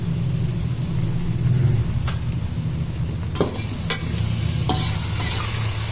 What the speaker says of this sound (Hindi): अब इन तमाम मसालों का हम भूनेंगे।